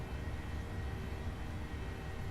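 A steady, unbroken drone of airliner engines fills the flight deck of a Ryanair jet climbing toward cruise altitude in Microsoft Flight Simulator, holding at a constant level throughout.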